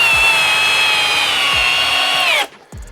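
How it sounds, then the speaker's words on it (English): A Milwaukee Gen 3 hammer drill driving an 8-inch timber lock screw whines loud and close in a steady high-pitched run, its tone sagging slightly, before it cuts off abruptly near the end. "now we are gonna be doing a 6-inch timber lock first with the Gen 3."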